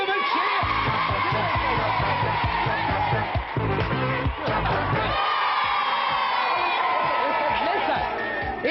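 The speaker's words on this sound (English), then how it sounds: "didn't they all do well? Give them a cheer!" A television pop-music studio audience cheers and screams loudly and steadily, with high-pitched youthful shouts and whoops running throughout.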